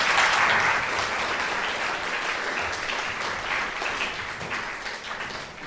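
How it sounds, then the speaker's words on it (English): An audience at an urban design talk claps in a full, sustained round of applause that starts loud and slowly tapers toward the end. "One more round of applause."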